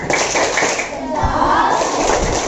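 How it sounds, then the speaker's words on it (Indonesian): Classroom of children joins in a rhythmic 'tepuk salut' clap led by the teacher, quick hand claps in pattern close by with children's voices chanting along. "Kita kasih tepuk salut dulu buat semua kelompoknya"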